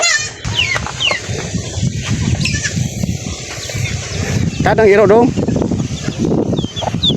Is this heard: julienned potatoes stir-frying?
no